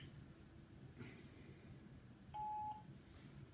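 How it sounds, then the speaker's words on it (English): A voicemail recording tone sounds once, a short, clean electronic beep, faint against low background hiss. "At the tone, please record your message."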